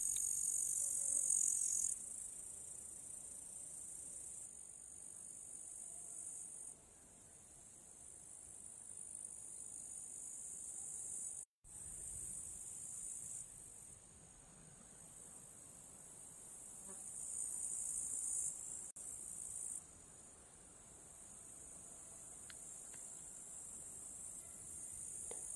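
Grasshoppers trill steadily in a high, continuous buzz throughout, with faint outdoor forest background and no voices.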